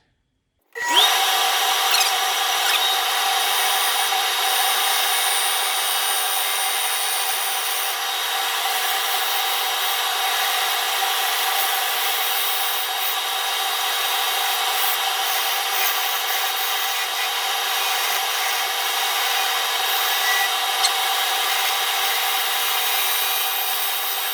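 A woodworking carving tool is sharpened for a driftwood cedar bowl, starting abruptly after a moment of silence into a loud, continuous grinding whir that holds steady to the end.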